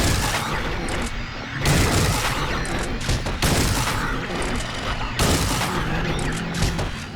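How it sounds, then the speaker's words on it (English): In Silent Hill 3, a shotgun fires repeatedly, each loud booming blast arriving roughly every one to two seconds over a dense, noisy game soundscape, with no talking. "Shotgun. I have seven shots."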